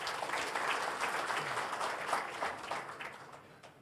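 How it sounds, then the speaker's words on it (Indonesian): Audience applause at the opening of a government technical working meeting, a steady wash of hand claps from a seated crowd that holds fairly even for several seconds and fades slightly toward the end. "Tepuk tangan untuk semuanya."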